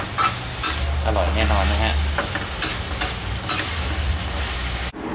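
Pork with ginger stir-fries in a pan with a bright, loud sizzle and quick scraping stirs that stop abruptly near the end, while someone speaks briefly.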